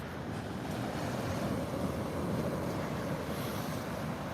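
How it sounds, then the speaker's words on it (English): Surf rolls in from the ocean as a continuous, moderately quiet rush of waves and wind, steady throughout with no voices over it. "Gotta love that ocean sound."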